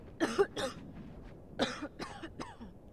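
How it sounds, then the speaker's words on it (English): A man coughs in a few separate harsh bursts, two quick ones then a pause and three more, close and fairly loud with some throat clearing. "Why am I coughing?"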